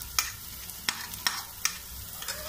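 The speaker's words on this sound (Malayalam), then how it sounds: "ഇനി നമുക്ക് പച്ചമുളക് ചതച്ചത് ചേർത്ത് കൊടുക്കാം." Crushed green chillies sautéing in a pan for Kozhikode-style beef biryani, a low steady sizzle broken by several sharp stirring scrapes spaced through the moment, close and fairly quiet with no talk.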